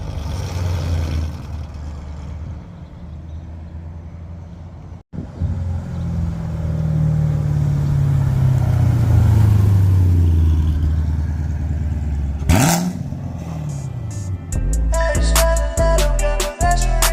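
A supercharged C7 Corvette Stingray Z51 with a 7-speed manual driving slowly around a parking lot, its deep engine rumble swelling and settling through gear changes, with a brief sharp blip and varied revving toward the end.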